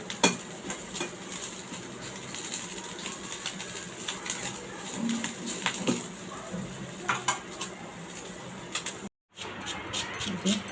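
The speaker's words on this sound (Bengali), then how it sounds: "খুব সহজেই ভর্তা বানানোর জন্য লাল লাল করে ভেজে নিচ্ছি।" Shrimp frying in a pan for Bengali chingri bharta, with a steady sizzle under repeated metal scraping and clinks of a utensil against the pan, close and fairly loud, with a short break near the end.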